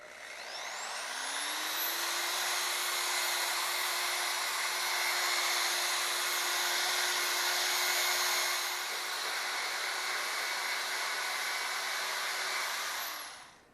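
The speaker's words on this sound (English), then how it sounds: "this is the last thing I do, the big buffing wheel, and I just kind of go over where I went" A big buffing wheel polishing a stainless steel arch spins up to a steady high whine, holds a loud even roar against the metal for several seconds, then winds down at the end.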